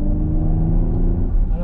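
A 2020 Porsche Cayenne hybrid pulls away on its electric motor with a steady, loud drone that rises slightly near the end, heard alone without talk.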